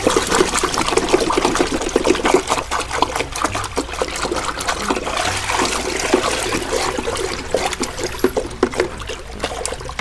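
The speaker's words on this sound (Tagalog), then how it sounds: "So, kailangan haluin talaga ng mabuti na. Haluin mabuti ang yeast." Yeast is stirred into water for a daphnia culture, giving a continuous close sloshing and swirling of liquid with small splashes and trickles, loud and unbroken.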